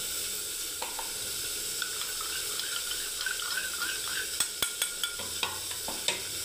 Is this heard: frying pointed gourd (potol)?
yes